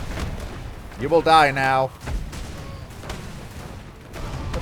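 Homing missiles explode among pirates in the airship game Airships: Conquer the Skies, heard as muffled, low booms and rumbling at moderate level, while a voice speaks briefly over them.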